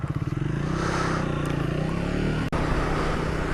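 A Triumph Speed 400 motorcycle running on the road, its engine a loud, close, steady drone with a throbbing pulse at the start and a brief dip partway through.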